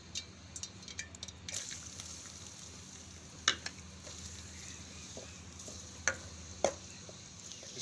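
Chopped onions dropped into hot oil for Lahori cholay, a low steady sizzle with scattered crackles and pops throughout, close and fairly quiet.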